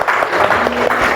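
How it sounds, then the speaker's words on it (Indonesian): Brief burst of clapping in a school classroom for the quiz winners, with a few voices mixed in and lasting only about a second. "Tepuk tangan buat para juara."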